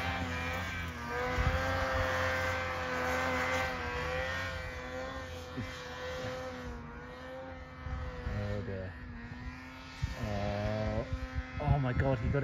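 A snowmobile engine revs and whines in deep powder snow as the rider pulls a big wheelie, the sustained engine tone rising and falling at moderate distance while people talk and shout over it.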